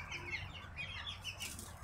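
Faint, high cheeping from 23-day-old chicks with a soft flutter of wings, all thin and distant against a low background hum.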